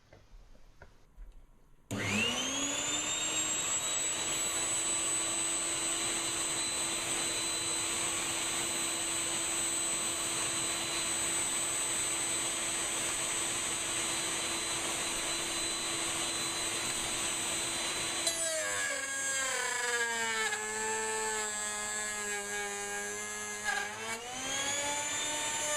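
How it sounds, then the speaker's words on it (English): Router table cutting a double rebate in wood for a mirror frame: motor spins up sharply and holds a loud steady whine, then the pitch drops and roughens as the bit bites into the wood before easing near the end. "I'm going to cut a double rebate, the first for the mirror itself to sit in"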